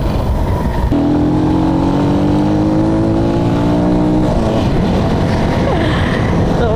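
A carbureted Rusi Plus 150 motorcycle revs hard in third gear. The engine tone climbs steadily in pitch, then drops sharply as the rider shifts, and continues as a loud, close roar under heavy wind rush.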